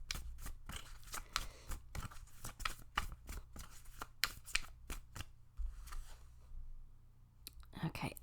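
Tarot cards shuffled close up, a rapid series of crisp riffling slaps and flicks in an uneven rhythm, with a voice briefly heard at the end.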